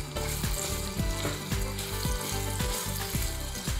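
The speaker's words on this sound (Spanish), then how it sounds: "Ya están rehogadas las manzanas con la mantequilla y el azúcar" Apples sautéing in butter and sugar in a pan give a steady, close sizzle broken by regular scraping stir strokes, with no talking.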